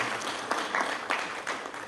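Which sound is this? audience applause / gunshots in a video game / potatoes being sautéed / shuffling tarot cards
audience applause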